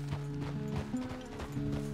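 Horse hooves clip-clop at a walking pace in the video game Red Dead Redemption 2, a steady rhythm of soft thuds over a low background hum with tonal music, and no one speaks.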